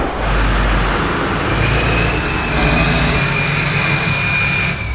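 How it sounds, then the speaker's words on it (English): Duramax diesel pickup truck, nicknamed DURTYMAX, pulling out of a garage, a steady loud engine drone with a rising whine partway through, heard alone without talk. "we actually have to pull the DURTYMAX out of the garage"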